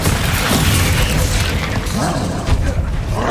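Spell-casting blast from the fire spell Incendio in the video game Hogwarts Legacy, a loud, dense booming burst that holds steady across the whole moment, with a further impact near the end and faint voice-like sounds mixed in.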